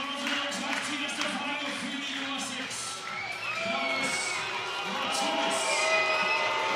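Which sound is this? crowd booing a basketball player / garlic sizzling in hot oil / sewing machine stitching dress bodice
crowd booing a basketball player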